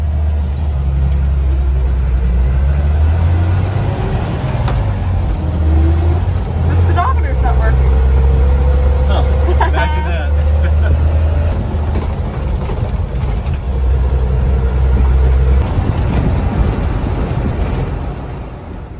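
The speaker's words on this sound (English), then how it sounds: "sometimes even showing Eric up himself, the FJ40 was ready for another test run." A Toyota FJ40 on its first road test, its engine droning loud and close with low rumble and gear changes shifting the pitch, as voices talk over it before it fades near the end.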